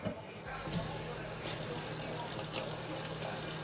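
Water runs steadily from a tap into a sink, a continuous close hiss and gush lasting a few seconds with no voice over it.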